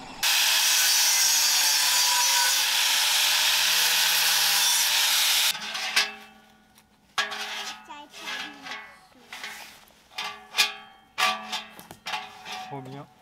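A power tool cuts continuously and loudly through the metal of a gas bottle being made into a wood stove, then stops, giving way to scraping, clanking handling and voices speaking.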